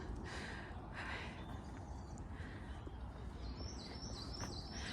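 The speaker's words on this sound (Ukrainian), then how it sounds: "цей спів птахів" Faint birdsong in a 19th-century English park in South Yorkshire, scattered chirps and a few higher trilling calls, distant, over a soft outdoor background hiss.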